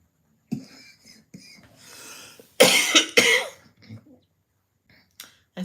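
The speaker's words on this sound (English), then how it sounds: "I still have a slight cough" After some quiet shuffling and breaths, two harsh, close coughs burst out in quick succession, followed by faint softer sounds.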